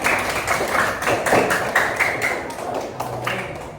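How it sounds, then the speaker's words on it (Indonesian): A classroom applauds a student group after its presentation: a scatter of uneven hand claps and thuds, fairly close and loud, keeps up for several seconds before thinning out. "tepuk tangan untuk kelompok 5 ya"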